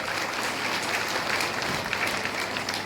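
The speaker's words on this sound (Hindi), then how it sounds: "कृपया तालियां बजाएं।" A crowd at a political event claps steadily, an even wash of many hands from a moderately distant audience lasting the whole short stretch without talk.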